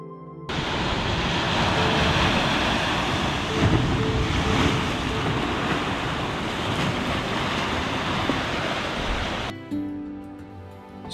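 Ocean waves break on the shore in a loud, continuous roaring wash with wind buffeting the microphone, before cutting off abruptly near the end.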